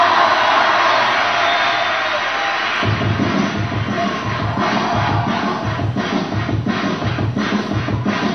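A crowd at the sixth Teletón in Chile applauds and cheers to welcome a band. The dense clapping builds and grows heavier partway through, with scattered whoops.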